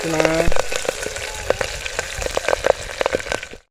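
Green chillies drop into hot oil in a village-style kitchen, giving a brief clatter and then a busy crackling sizzle with irregular pops that fade just before the sound cuts off.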